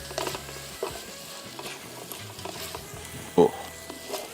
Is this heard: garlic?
yes